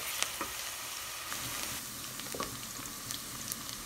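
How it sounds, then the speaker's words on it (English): Onion frying in oil in a pot while being stirred, a steady close sizzle with occasional scraping clicks of the spoon throughout. "Add your oil to the pot and add in your onion. Stir and fry for 1 minute."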